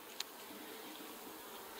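Honey bees buzzing around a beehive, a faint, thin, continuous hum heard at a distance in a quiet setting, with no talking.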